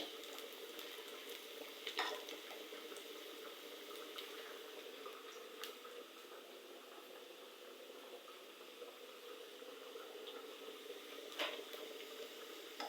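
Garlic and onion fry in oil for taro greens, a soft continuous sizzle with occasional spatula scrapes and stirs against the pan, fairly quiet and steady with no talking.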